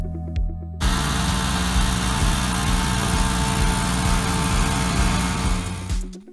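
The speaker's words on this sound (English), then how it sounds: "Here, you see potato planting being done with an old but reliable potato planter." An old but reliable potato planter runs steadily in a field during potato planting, a loud continuous mechanical engine drone with rattling that starts abruptly after a brief pause and holds level before tapering at the end.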